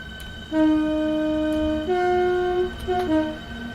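A Javelin high-speed electric train in the Train Sim World 3 simulator hums with a close, loud tonal motor whine that steps up in pitch in distinct stages, holding steady between shifts, with no talking.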